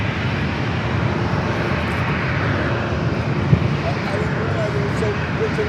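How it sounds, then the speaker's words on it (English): Southwest Boeing 737-700 at San Diego airport, a steady loud jet engine roar that holds evenly throughout with a brief thump midway. "Will be followed by Southwest flight 2449 heading to Sacramento, a"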